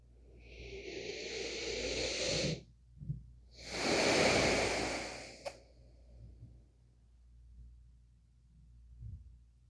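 Long yoga exhales are heard twice in a child's pose, each a slow, breathy rush of air that swells and fades. They are close and clear over a quiet background, with a faint low thumping between them.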